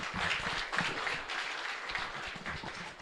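A church congregation at a Spanish-language Mass applauds, a moderately distant, continuous spatter of many hands with a few louder individual claps standing out, lasting about three seconds.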